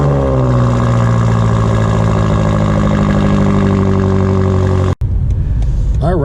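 A 2021 BMW M8 Gran Coupe Competition engine running, a loud deep drone with steady and slowly shifting pitch, then a sharp cut followed by lighter engine and interior sounds.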